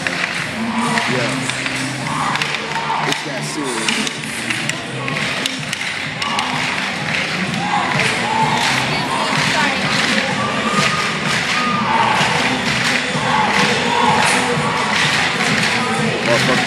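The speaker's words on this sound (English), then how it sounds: "Y'all hear all that clapping" A crowd at a competition cheers, shouts and claps, with children's voices in the loud, continuous roar, scattered thumps, and nearby talk over the din.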